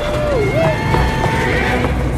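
Wild horses in the 2021 animated film Spirit Untamed whinny loudly with rising and falling calls over a steady clatter of hooves and a busy, dense background.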